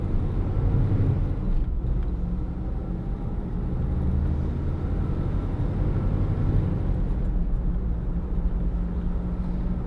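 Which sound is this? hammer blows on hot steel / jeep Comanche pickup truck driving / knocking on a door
jeep Comanche pickup truck driving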